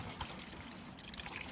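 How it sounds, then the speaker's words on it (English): Maple sap is poured off carefully into a bucket outdoors, a soft steady trickle of liquid running at low level throughout, with faint background noise and no talking. "You just pour it off real careful."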